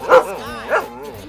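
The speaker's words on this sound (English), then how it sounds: "Do you hear the neighbor's dog out in the yard?" Neighbor's cartoon dog barking, two clear woofs in a row with a whiny, slightly talking-like tone between them, close and fairly loud.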